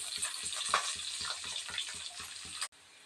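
Mustard seeds and urad dal splutter in hot oil, a close steady frying crackle with small pops and a low rhythmic stirring pulse, ending abruptly after under three seconds, without speech.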